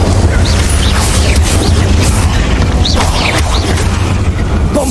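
Incendio fire spell cast in the Hogwarts Legacy video game, a loud sustained whooshing roar with low rumbling booms and scattered bright crackles running throughout, with no voices.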